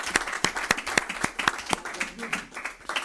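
A church congregation applauding in praise of the Lord, with sharp, rhythmic claps landing in a steady beat, close and distinct, carrying on without break and no spoken words over them.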